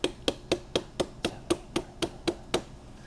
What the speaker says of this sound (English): we're gonna tap on the sides 10 to 15 times